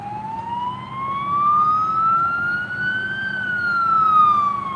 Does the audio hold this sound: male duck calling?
no